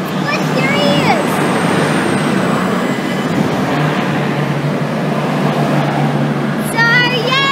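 A V/Line VLocity train departs Sunbury for Bendigo, heard from an overhead pedestrian bridge as a loud, steady rumble and roar throughout, with high squeals near the start and the end.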